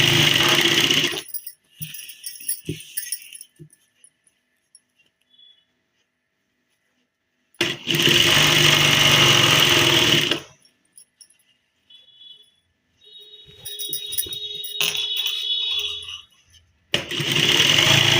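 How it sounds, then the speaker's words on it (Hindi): Sewing machine running in three loud bursts with pauses between, stitching a straight seam along the fly on loose pants, with quieter handling sounds in the gaps. "इस म्यानी की सिलाई से सिलाई मिलाते हुए इस तरह से हम ये सीधी सिलाई लगा लेंगे"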